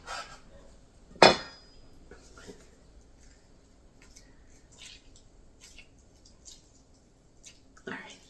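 A knife cuts through a lime on a board in a home kitchen with one sharp loud chop near the start, then quiet light clinks and a second knock at the end.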